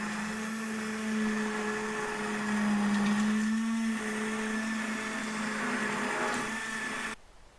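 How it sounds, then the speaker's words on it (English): A steady electric hand blender whirs continuously for several seconds mixing copper matte raku glaze, its pitch wavering slightly, then cuts off abruptly. "I use a hand blender, just an electric hand blender."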